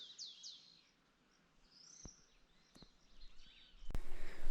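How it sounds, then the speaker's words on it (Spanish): Small birds chirp and trill sporadically in a quiet outdoor setting in the Impenetrable forest of Chaco, Argentina, short high calls near and far, with a few sharp clicks and light rustling. "solo se escuchan los ruidos de los pajaritos"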